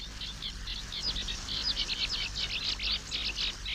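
Cetti's warbler in a British reedbed delivers rapid, sharp chirping phrases, a bright repeated burst of notes over a low ambient hum, fairly close and alone.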